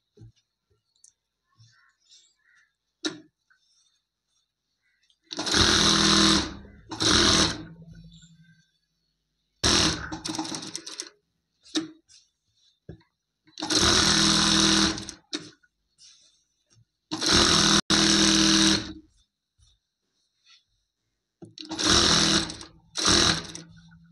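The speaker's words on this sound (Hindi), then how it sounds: "तो दोस्तों, अस्तर और फैब्रिक को हम ज्वाइंट कर रहे हैं अभी।" Sewing machine stitching the lining to the fabric of an umbrella frock, running in several loud, close bursts of rapid whirring separated by quiet pauses.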